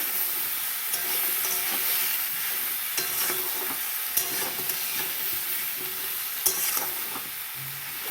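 Hilsa fish cooks with tomato in a pan, frying with a continuous sizzle broken by repeated scraping stirs and sharp utensil knocks every second or so, near and clear, no one talking.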